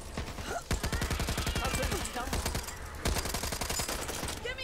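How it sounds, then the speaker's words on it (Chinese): An M249 machine gun fires in the video game Back 4 Blood, delivering rapid sustained bursts of close, loud shots that stop briefly and resume, with faint game sounds in between. "这他妈 M249 越开枪越稳"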